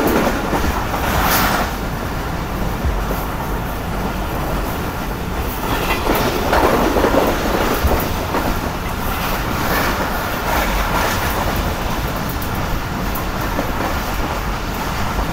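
Karakoram Express train rushing past at high speed, a loud, continuous roar of wheels and rail clatter with rhythmic clickety-clack and faint squeal throughout, close by and steady.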